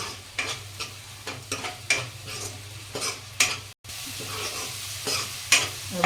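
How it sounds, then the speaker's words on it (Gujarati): Spices sauté in ghee with a splash of hot water while the dal for dal baati is cooked, giving a soft steady sizzle broken by repeated scraping stirs of a spoon against the pan. "આપણે 2 ચમચી જેટલું ગરમ પાણી રેડીશું તો મસાલા અંદર થોડા સંતળાય ત્યાં સુધી"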